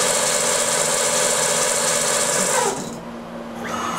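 A scratch-built, servo-powered 4th-axis mini machining center spinning a workpiece like a lathe, giving a steady close whirring buzz that cuts off near the end and then briefly starts to rise again.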